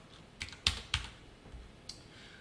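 A computer keyboard is tapped while writing HTML and CSS code: a few sparse, close keystrokes spaced irregularly over a quiet background, with no talking.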